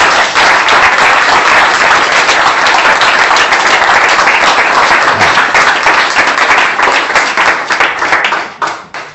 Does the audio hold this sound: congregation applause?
yes